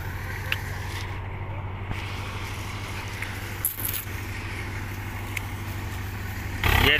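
A Swaraj 744 tractor engine runs steadily while driving a paddy thresher outdoors, a continuous low mechanical drone with a constant hum and occasional rattles, heard alone.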